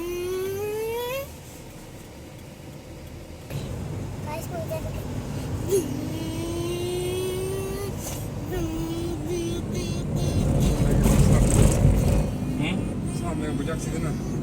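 Car engine while driving: a steady low hum and whir of the vehicle running throughout, with a rising rev near the end, under a voice and other speech.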